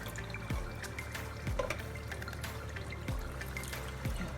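Water splashes and drips as a tomato can is rinsed and the contents are poured into a fish stew, with faint trickling and several short falling sounds close by.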